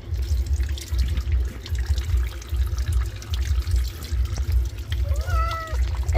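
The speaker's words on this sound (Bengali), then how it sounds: "এই তো জল ঢালছি, জল ঢেলে দিচ্ছি না।" Water pours steadily in a close, continuous splash over a cat during its bath, with a short cat meow rising near the end.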